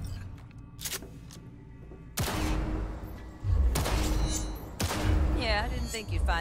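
Sharp bursts of gunfire during tactical target practice in Cyberpunk 2077, several loud shots in separate volleys a second or two apart, with a low background hum and some brief voice between bursts.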